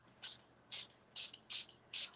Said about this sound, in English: Spray it with water.